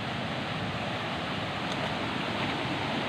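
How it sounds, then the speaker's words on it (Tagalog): Loud, steady rushing water of a strong river fills the clip, a dense continuous roar with no pauses, like a strong current close by. "Sobrang lakas ng tubig."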